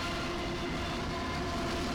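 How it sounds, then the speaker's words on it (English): Dense, continuous roar of a train passing close by in the simulation game OMSI 2, a steady wall of rail noise with clattering undertones and no voices. "Hello, train. It's gonna make a lot of noise."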